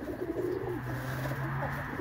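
Pigeons coo softly nearby in a loft, low throaty rolling calls repeating over a short stretch with steady background hum.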